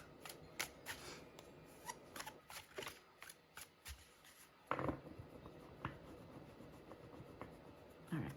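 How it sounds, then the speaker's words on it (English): Tarot cards being shuffled by hand, a run of quick crisp riffles and soft card slaps close up, with one louder burst of shuffling partway through, no talk. "Just gonna give a little bit more of a shuffle"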